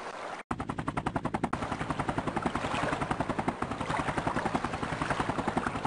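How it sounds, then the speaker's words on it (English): A video-game helicopter with a loud, fast rotor thumping that starts abruptly and continues steadily throughout, close and dominant. "a helicopter coming down from the sky to pick up a box"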